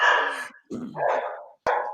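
Several sharp dog barks close by inside a house, three bursts in about two seconds with brief gaps between them.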